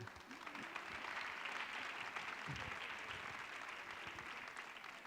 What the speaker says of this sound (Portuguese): Queria dar uma salva de palmas ao Pedro.